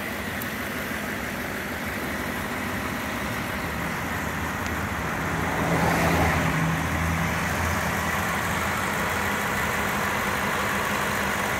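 A 2006 Cadillac DTS with a 4.6 liter Northstar V8 idles quietly and steadily, a smooth low hum that holds even, with a slight swell around the middle and no talk over it.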